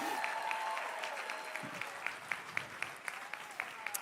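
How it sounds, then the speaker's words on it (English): Audience applause at a school spirit streamathon as a guest is called up, broad clapping that thins out into a few distinct, sharper individual claps toward the end, with faint voices underneath. "Come on, clap for Matt."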